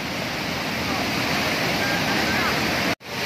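Steady broadband rush of Taytay Falls, a waterfall in Majayjay, Laguna, fills the scene continuously with no words spoken, cutting out abruptly near the end.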